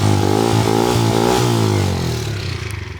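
A WK 125RR motorcycle with a stock 125 engine and stock exhaust revs up and holds a buzzing, rising engine note close by, then eases off and settles into a choppy idle.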